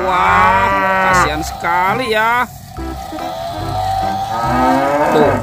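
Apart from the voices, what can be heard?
cow mooing, toy cow eaten by crocodile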